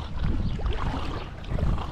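Gusty wind at a lake buffeting the microphone outdoors, a rough low rumble that swells and eases over a couple of seconds.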